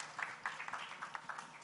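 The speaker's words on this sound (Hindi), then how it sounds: "Round of applause, please, everyone, ma'am." Crowd applause at a film trailer launch event, a thin, fairly quiet patter of scattered clapping with irregular louder claps throughout the short stretch.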